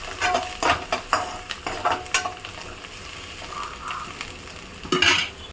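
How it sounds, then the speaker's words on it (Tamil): Onions sauté in hot oil in a pan for a Tamil meat curry, with a soft continuous sizzle broken by repeated stirring scrapes and clinks of a spoon against the pan. "இந்த குழம்புக்கு வந்து வெங்காயத்தை கொஞ்சம் நல்லா வதக்கணும்."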